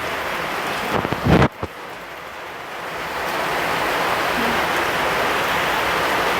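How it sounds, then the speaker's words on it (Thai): Steady rain pours down in a continuous hiss, loud and close, after a brief knock or bump near the start; no voices. "ฝนตกอยู่"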